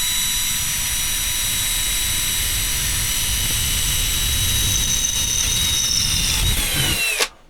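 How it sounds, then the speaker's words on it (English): A DCA cordless hammer drill boring through oiled steel, a loud, steady high-pitched whine held for about seven seconds as the bit grinds through, then dropping off abruptly as it breaks through and stops. "drilling steel with a hand drill always is a bit tough"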